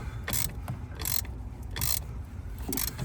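A hand ratchet clicks in four short, sharp bursts while tightening the 12V battery terminal on a Tesla Model Y. The bursts are close and loud, with quieter gaps between strokes and no voices.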